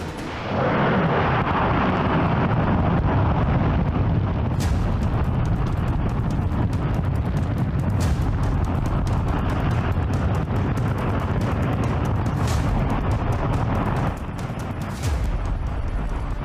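A NASA J-2X rocket engine test-fires at a lower power level, a continuous loud roaring rumble with crackling bursts that holds steady for the whole stretch and dips slightly near the end.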